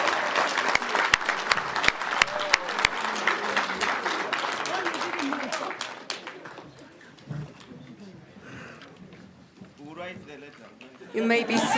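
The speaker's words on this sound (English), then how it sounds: "can we give another round of applause to Her Excellency" Loud applause from a large conference audience, dense clapping that fades after about six seconds into a host speaking over a quieter hall, with a brief burst of clapping returning at the end.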